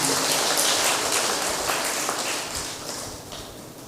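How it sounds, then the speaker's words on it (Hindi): A church congregation applauds together at an annual parish feast Mass, a dense, steady patter of many hands clapping at close range. The clapping runs throughout and slowly fades toward the end, with no voices over it. "जोरदार तालियां बजाइएगा उन सबों के लिए"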